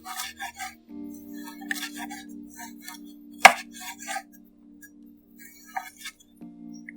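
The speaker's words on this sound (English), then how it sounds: "Resuming carrot slicing." Carrot slicing in the Cooking Mama video game: crisp, quick cutting taps and game chimes over a steady electronic tone, with one sharp louder hit midway, no speech.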